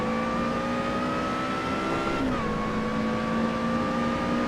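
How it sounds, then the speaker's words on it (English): A race car engine in the Assetto Corsa racing game revs high in a sustained whine, with a brief pitch dip as it shifts before climbing again, loud and continuous. "I really love an engine that winds out that high"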